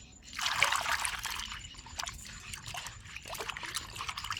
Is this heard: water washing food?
yes